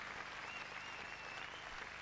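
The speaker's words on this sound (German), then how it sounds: "Beifall für Steffi" Steady, dense applause from an indoor crowd greets Steffi Graf at the 1990 European Indoors tennis final, a fairly faint, continuous wash of clapping with no break.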